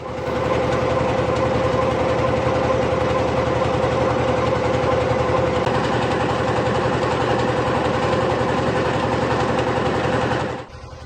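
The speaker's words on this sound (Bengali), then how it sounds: "এখন ট্রলার চালু হবে আমরা রওনা দেব" A fishing trawler's engine runs with a loud, steady droning idle close by and no talk, then cuts off abruptly near the end.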